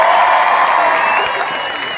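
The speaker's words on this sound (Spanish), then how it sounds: "Oigan, un aplauso para Cintia." A crowd at a concert applauds and cheers for a fan on stage, a dense continuous roar of clapping that tapers slightly at the end.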